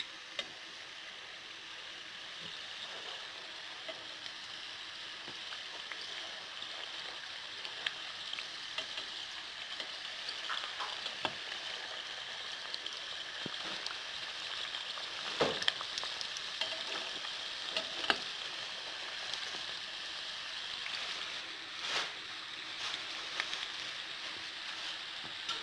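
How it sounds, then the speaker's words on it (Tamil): Spices temper in hot oil in a pan with a steady, quiet sizzle and fine crackling, broken by occasional sharper pops and spits throughout. "இப்போ தெறிப்பு போடலாம்"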